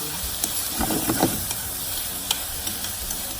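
Shrimp being stir-fried with mushroom seasoning for Vietnamese crispy noodles, a loud continuous sizzle with scraping stir strokes and scattered clicks of the utensil against the pan.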